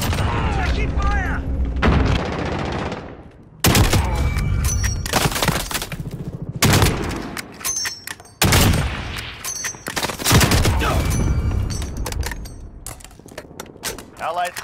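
Gunfire fills a Modern Warfare team deathmatch on a small map, with loud, dense bursts of automatic and single shots in rapid volleys, broken by short gaps, while players talk over it.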